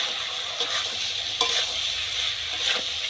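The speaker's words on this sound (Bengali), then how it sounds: "ভালো করে কষিয়ে নেব" Soybean chunks sautéed and stirred in a hot pan, a steady close sizzle with soft scraping stirs at intervals, no voices.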